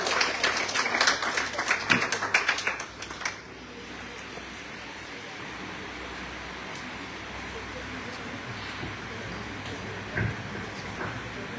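Audience applause at a poetry recitation competition: a dense burst of clapping for about three seconds, then it stops and leaves a quiet room hum.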